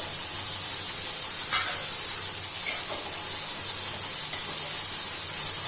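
Freshly grated coconut dry-roasting in a pan for a homemade Khandeshi-style chana masala spice paste, giving a steady, soft sizzling hiss with faint scraping touches throughout.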